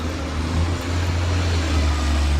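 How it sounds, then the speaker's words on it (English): A garbage truck passes along a suburban road, heard as a steady, loud low engine rumble with broadband road noise that holds evenly throughout, no voices over it. "I'm waiting for this rude garbage truck"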